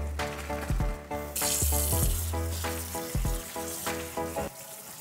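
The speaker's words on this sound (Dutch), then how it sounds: "We gaan die ook goed spoelen onder koud water om ervoor te zorgen dat die garing stopt." Cooked pasta drained and rinsed under cold tap water in a kitchen, a loud steady rush of running water with clattering pulses as the pasta shifts in the colander.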